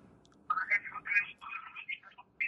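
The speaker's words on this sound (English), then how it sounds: "Your phone rang." A telephone rings in short, warbling tonal bursts, close and clear, with a brief pause midway and nothing else around it.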